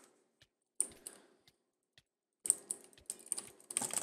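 Rapid mouse clicking during a Minecraft session comes in sparse single clicks and then dense bursts of quick, sharp taps, close and dry, with no talk.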